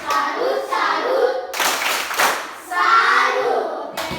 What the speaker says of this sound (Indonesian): Kita berdiri dan semua tepuk salut untuk semua yang sudah mengerjakan.